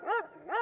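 A dog gives two short barks or yelps, close and moderately loud, with a brief gap between them and no voices.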